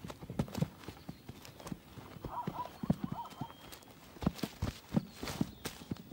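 Wild horses, mares and stallions in breeding season, walk with hooves clip-clopping in an uneven rhythm at moderate distance, with a brief whinny partway through and a narrator speaking over them.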